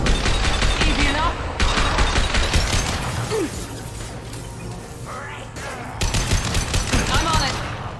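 Rapid-fire weapons chatter in the game Mass Effect, dense bursts of shots in the opening seconds, a quieter stretch with distant clanks and a brief voice, then another loud volley near the end.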